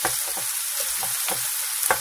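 Black bean burgers sizzle and crackle in a large pan, with several soft scraping stirs at a steady pace, close by.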